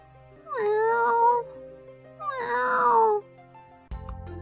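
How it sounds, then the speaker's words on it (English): A stray cat meows twice, two drawn-out wavering cries close by separated by a short pause, followed by a sudden sharp knock or thump at the end. "Is that a cat? It must have been a stray."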